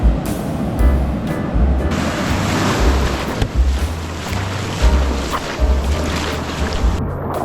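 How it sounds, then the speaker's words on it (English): Ocean surf at a longboard surf spot, small clean waves of about two to three feet breaking in steady washing swells, with strong wind buffeting the microphone throughout and low thumps from the water. "There's some good little waves out here actually."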